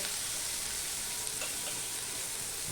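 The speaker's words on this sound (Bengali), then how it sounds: "এবার পেঁয়াজ আর তেজপাতাটা আমি ভালো করে ভেজে নেব" Onion and bay leaf fry in oil in a pan, making a continuous soft hiss and crackle nearby at an even level, with no talking.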